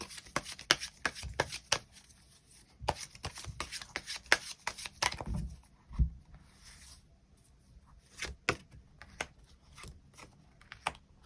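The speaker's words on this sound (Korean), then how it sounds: "추가 카드 뽑아보도록 하겠습니다" Tarot cards are shuffled and drawn by hand, giving quick, soft flicking and riffling clicks in irregular bursts with short pauses, close and quiet.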